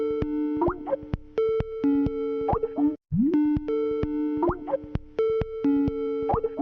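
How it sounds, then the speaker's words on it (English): A classic Skype ringtone plays loud and alone: two bursts of bright, bubbly electronic tones in a bouncing melodic pattern, split by a brief gap near the middle. "Could forget the classic Skype ringtone"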